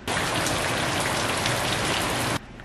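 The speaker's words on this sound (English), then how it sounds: "That is the rain." Heavy rain pours down in Los Angeles as a loud, dense, constant hiss of drops hitting surfaces, then it cuts off abruptly near the end.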